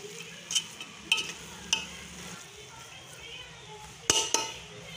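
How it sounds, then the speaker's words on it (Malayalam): Colocasia leaf and dal stir-fry is stirred in a pan over a low flame, with a soft background sizzle and several sharp metallic scrapes and clinks of a spoon against the pan. "നന്നായിട്ടൊന്ന് ഇളക്കിയെടുക്കാം. ഒന്ന് ഇളക്കിയെടുക്കാം. ലോ ഫ്ലെയിമിൽ വെച്ച് വേണം നമ്മൾ ഇത് തമ്മിൽ മിക്സ് ചെയ്തെടുക്കാൻ."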